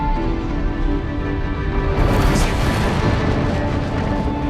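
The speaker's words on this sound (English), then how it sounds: "A dramatic explosion on the sun's surface." A dense, sustained roaring rumble stands in for an explosion and eruption on the sun's surface, loud and continuous, swelling slightly midway, with no talk.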